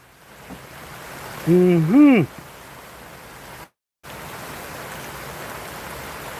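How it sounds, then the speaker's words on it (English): Steady rain falls on a garden where bell pepper plants grow, giving a soft, continuous hiss from start to finish, while a voice briefly exclaims over it and a short dropout interrupts. "This rain gonna create a lot of growth."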